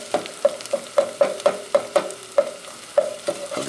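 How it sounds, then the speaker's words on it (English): Chopped onion for a tomato sauce sautéing in a pan, with a steady sizzle punctuated by a regular series of sharp stirring scrapes and taps, close and clear, no voices. "So we have a very small chopped onion. We're going to saute that."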